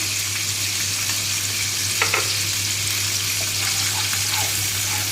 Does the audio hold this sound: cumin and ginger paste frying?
yes